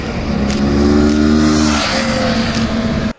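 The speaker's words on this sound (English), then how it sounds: "you guys must really listen to this exhaust note. It's a very, very, very nice one." A Kawasaki Ninja 650 motorcycle accelerates hard, its parallel-twin exhaust rising in a loud, close, continuous growl with stepped harmonics as the revs climb, then cutting off abruptly near the end.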